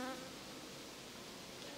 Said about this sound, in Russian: Пчела не ушла.